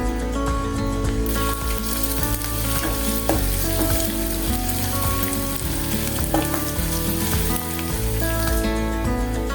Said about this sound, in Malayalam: ഇതിലേക്ക് ഇനി കടുക്, കൊച്ചുള്ളി, കറിവേപ്പില താളിച്ചു കൊടുക്കാം. നമുക്കിനി കടുക് പൊട്ടിച്ചെടുക്കാം.